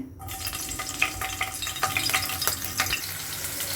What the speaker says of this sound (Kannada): ಇವಾಗ 2 ಹಸಿರು ಮೆಣಸಿನ್ಕಾಯಿ ಕಟ್ ಮಾಡಿ ಇಟ್ಕೊಂಡಿದ್ವಲ್ಲ ಅದನ್ನ ಹಾಕ್ಕೊತಾ ಇದ್ದೀನಿ